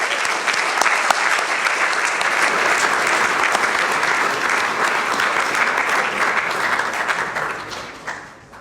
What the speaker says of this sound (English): I'd like to sort of join a round of applause for her accomplishments.